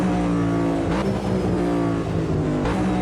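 Engine of the NASCAR Garage 56 Next Gen car at Le Mans in Automobilista 2, a loud, steady V8 drone with harmonic roar, briefly shifting pitch as it accelerates through a pack of cars.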